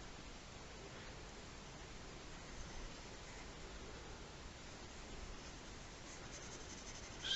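Pencil sketching on paper while drawing dark tentacle-like veins around a skull, a steady soft scratching hiss that runs close and continuous throughout, faint and without pauses.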